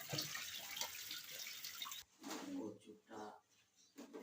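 Taro leaves being washed and shaken under running water, a steady splashing flow for about two seconds, then intermittent sloshing bursts with a voice talking over them.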